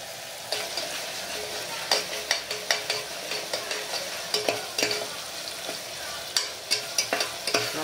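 Tomato, ginger and garlic fry in a pan for chicken gravy, a continuous sizzle broken by regular scraping strokes of a stirring spoon, near and moderately loud.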